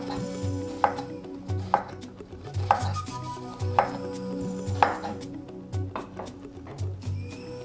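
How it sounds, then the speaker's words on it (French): Onions being chopped into small pieces with a knife on a cutting board, sharp evenly spaced knocks about once a second, clear and close, with a faint background hum and no voices. "nous allons découper des oignons, également en tout petits morceaux"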